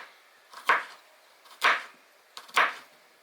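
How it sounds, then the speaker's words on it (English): A knife slicing food into pieces on a cutting board while cooking, three distinct crisp cuts at a steady rhythm about one second apart, close and fairly quiet with no talk. "So I'm going to cut the rest of this up into slices."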